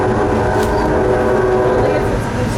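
An RBMN train departing Tamaqua, Pennsylvania, crossing Elm, Vine and Rose Streets and climbing a steep grade toward Barnesville, with a loud continuous rumble and engine drone heard from on board.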